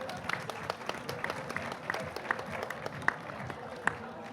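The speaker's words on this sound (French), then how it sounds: "On peut l'applaudir?" Moderate audience applause at a health forum on a festival stage, steady scattered clapping with a few sharper claps standing out, at moderate distance and without talk.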